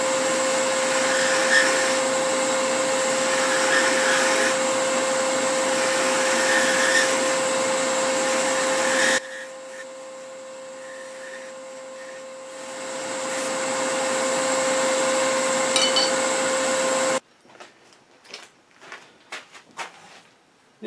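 An ebony pear spins on a wood lathe while a gouge's long edge shears across it, a steady high whirring hum with a faint rattling chatter, easing briefly, then cutting to a few short scraping taps.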